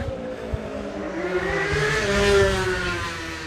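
Several cars engines rev and accelerate around a small improvised rally circuit at a large northern car gathering, a steady loud roar with rising pitch and faint tire noise, no talk.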